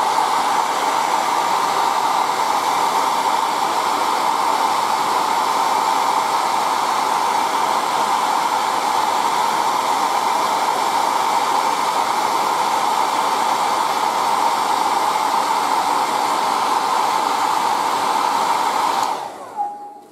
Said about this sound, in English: I'm going to use just the air dryer, okay, to dry.